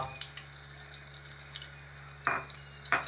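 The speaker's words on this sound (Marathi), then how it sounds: "आणि तेल गरम झाल्यानंतर आपण टाकूया करीपत्ता" Curry leaves hitting hot oil for Nashik-style misal, a steady low sizzle with sharper crackling bursts near the end, close by with no talking.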